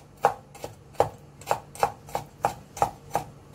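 A kitchen knife chops preserved salted pickled vegetables on a cutting board for Chiu Chow fried rice, about eight steady, crisp close strikes spaced roughly every half second, with no voices.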